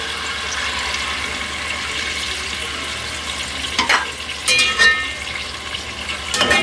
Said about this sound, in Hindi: आप इसको चिकन को भी भूनना है और दही का पानी भी खुशक करना है।